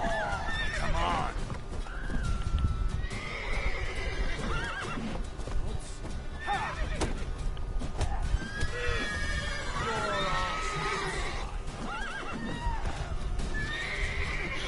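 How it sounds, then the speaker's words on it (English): Horses in The Witcher 3 video game whinny and neigh repeatedly amid clip-clopping hooves and general game ambience, with loud, busy layered calls across the whole stretch. "Scaring the horses, man."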